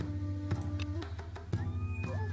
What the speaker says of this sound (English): It wasn't him, it was a cat outside.